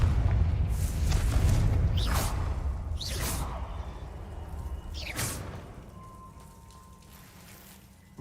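Confringo fire-blast spell in the Hogwarts Legacy video game: several whooshing bursts with booming low rumbles, spaced about a second apart, then fading to a quieter tail.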